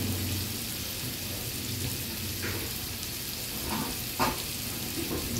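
Beef frying slowly in a pan for a long time, a dense continuous sizzle with a few soft knocks, close and fairly loud with no voices.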